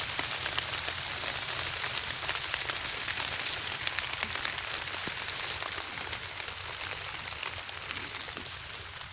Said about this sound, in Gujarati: જો આ વરસાદ આવવા મળ્યો છે ઝરમર ઝરમર